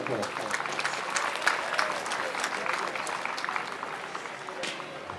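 Schoolchildren and guests at a sports meet closing ceremony clap steadily, a fairly soft, even patter of many hands with faint crowd murmur beneath.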